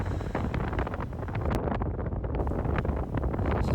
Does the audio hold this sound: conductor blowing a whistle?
no